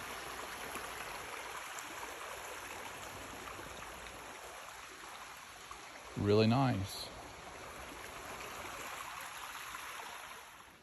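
Steady broadband rush of Cedar Creek flowing about 20 yards from a tent at a campsite in the Ouachita National Forest, continuous and moderately close, with a brief spoken remark partway through.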